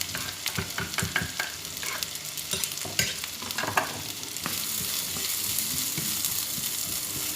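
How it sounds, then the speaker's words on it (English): Chopped onions hit a pan of browned garlic and fry, with a loud hiss and clattering spatula stirs at first, then settling into a steady, dense sizzle. "my garlic already brown. I'm going to add the chopped onions"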